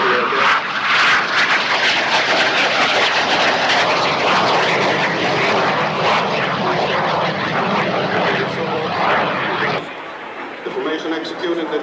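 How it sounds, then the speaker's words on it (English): Aerobatic formation airplanes roll and loop at an airshow, their loud continuous engine roar filling the scene for about ten seconds before dropping to a quieter drone near the end. "The formation executed the triple roll. 2 aircraft at a time, 3 times, going back into a loop, shaping up in a pyramid."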